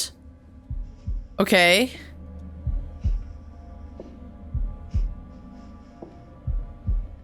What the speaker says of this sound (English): Press A in time with the heartbeat.